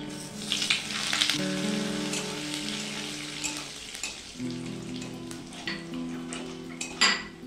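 Whole spices, namely dried red chillies, cinnamon, cloves, cardamom and a spoonful of cumin seeds, crackle and sizzle in hot oil in a pan, with a steady close frying hiss and occasional light utensil clinks, while soft music plays underneath.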